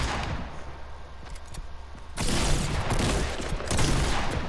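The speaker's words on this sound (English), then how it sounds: "I shot him in the head." Gunfire in the Fortnite video game, a burst of rapid shots that turns dense and loud partway through and keeps going as a continuous fusillade.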